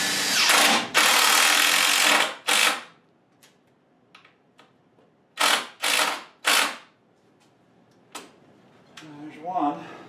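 A powerful cordless drill driving screws into wooden cellar shelving, several loud whirring bursts of one to two seconds with short gaps, plus light knocks and handling noise between them.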